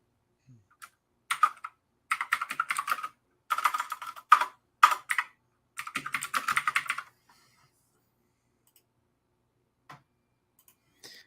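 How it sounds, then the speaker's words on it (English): Bursts of keyboard typing, rapid clicky keystrokes in several clusters with short pauses between, close and fairly clear, then a few isolated taps. "you hear my damn keyboard"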